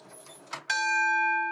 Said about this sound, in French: le chef de gare appuyait sur ce bouton et faisait sonner cette cloche.